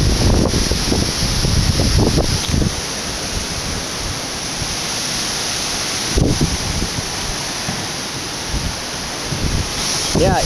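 Strong wind ahead of approaching thunderstorms roars and buffets the microphone in gusts, with broad rushing noise and low thumps rising and falling.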